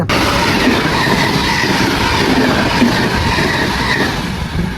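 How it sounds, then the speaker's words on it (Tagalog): An express train rushing past at close range, a loud, dense, continuous roar of wheels and rail noise holding steady before easing slightly at the end. "Yan po ang fastest train. Tinatawag nila na express."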